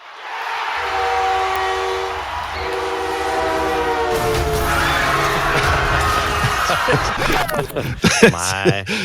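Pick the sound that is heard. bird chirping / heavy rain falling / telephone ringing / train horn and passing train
train horn and passing train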